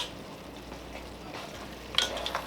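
Frozen cut okra goes into a pan with salt pork and cabbage. A faint, steady sizzle plays with a few soft stirring scrapes and one brief louder clink near the end.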